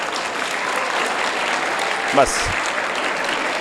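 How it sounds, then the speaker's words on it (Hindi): Children at a youth workshop at an Arya Samaj in Patel Nagar, Delhi, clap for a boy, a steady broadband patter of many small hands filling the whole stretch, with a brief voice breaking in near the end. "उसके लिए तालियां बजाओ, उसने हिम्मत करी"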